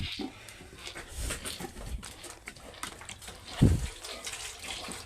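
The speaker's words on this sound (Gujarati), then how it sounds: "પી લે બાંટકી બસ જાજુ પાણી નથી પાવું હવે તને એટલું ઘણું પાણી" A buffalo calf drinks water, which splashes and laps in short gushes, with a louder slosh near the end, close by and fairly quiet overall.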